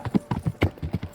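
Horse hooves clip-clop in the medieval video game Kingdom Come: Deliverance, with about eight quick, even hoofbeats at a steady trot, close and clear.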